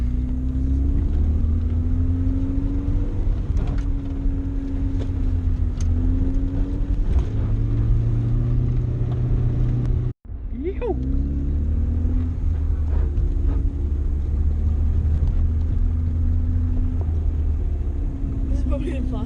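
A Datsun Stanza driven hard around a paddock by young teens, its engine droning and revving up and down close by, under excited talk from people inside the car.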